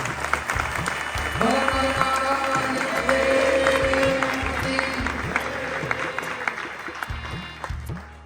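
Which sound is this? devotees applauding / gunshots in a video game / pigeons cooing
devotees applauding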